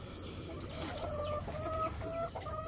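A Golden Buff hen clucks in a short series of tonal calls at close range over a low farmyard background rumble, with no talking.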